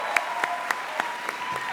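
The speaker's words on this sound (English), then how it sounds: "Can we give him a big round of applause?" Audience applause at the LightBox Expo concept art awards, a steady dense clapping from a crowd in a hall, moderately loud, with a few sharper claps standing out and no talk over it.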